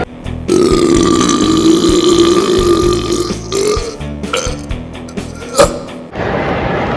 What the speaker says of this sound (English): You burped like a crazy man